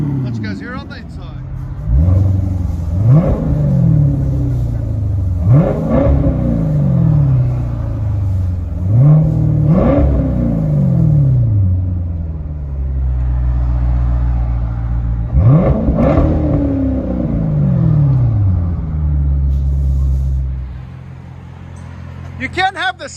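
A 2014 Chevy Corvette with a 6.2L V8 and straight-pipe dual exhaust revs hard in four loud, repeated blips, each rising and falling, then settles into a deep rumbling idle before a final sharp rev, close up.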